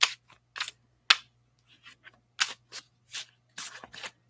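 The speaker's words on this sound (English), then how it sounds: "Let those things wait there gently and patiently while I shuffle the cards." A deck of playing cards shuffled in a quiet setting: a series of crisp riffling and snapping bursts at uneven intervals, close and distinct against a faint steady hum.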